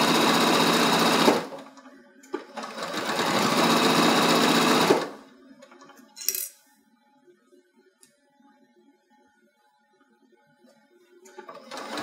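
Sewing machine stitching a casing around foam for a zippered bag, two loud sustained runs of motor whir separated by brief pauses, then quiet handling noises and a short final burst.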